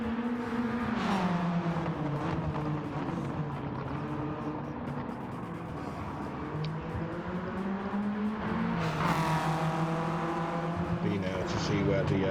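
Race cars in Gran Turismo 7 at Interlagos, a Renault Megane and a VW Scirocco, roar steadily with shifting engine tones and rising revs as they pass, running continuously under a commentator's voice.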